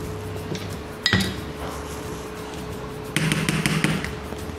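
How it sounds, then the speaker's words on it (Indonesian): Ingredients stirred with sesame oil in a pan, giving scattered metallic scrapes and clinks of utensil against cookware, with a sharp knock near the start and a busier burst of clattering later. "Ini semua kita aduk hingga rata."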